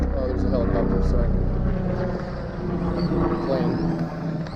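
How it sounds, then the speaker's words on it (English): A helicopter passes overhead outdoors, its low rumbling drone steady and fairly loud before fading slightly, with someone talking over it. "Oh, there's a helicopter, sorry."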